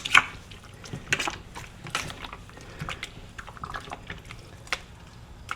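Canned tomatoes being squished by hand as water drains out, a series of soft, close wet squelches and drips at irregular intervals.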